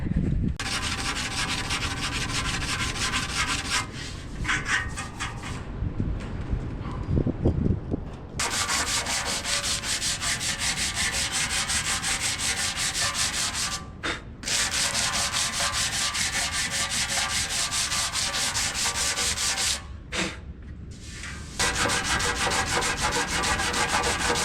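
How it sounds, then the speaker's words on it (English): Sandpaper works over epoxy filler on an old Farmall 560 tractor fender. A continuous, close, harsh rasping strokes back and forth, broken by a few brief pauses. "let's go over this with some sandpaper"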